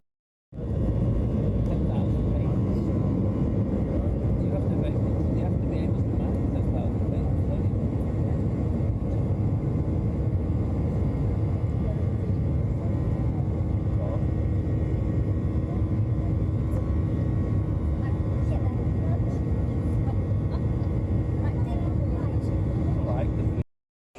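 Steady, loud jet cabin drone fills a passenger flight from the UK to Copenhagen. The low rumble holds without a break for over twenty seconds before cutting off.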